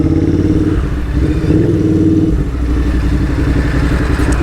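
Motorcycles ride through busy city traffic, their mid-pitched engines loud and close as they rev and accelerate, with a steady clattering drone that carries throughout.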